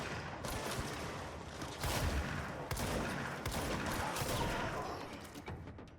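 Rapid gunfire rattles through a firefight in the video game Control, with bursts of sharp shots repeating steadily and a few heavier cracks, fairly quiet overall with a faint voice underneath.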